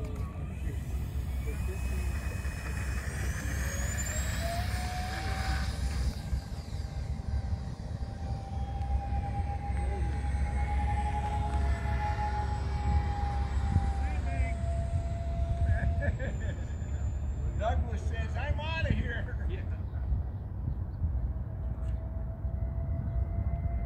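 An Aero Scout RC plane with twin electric ducted fan motors takes off, its thin, high whine rising in pitch, holding, then dropping away, with people talking nearby.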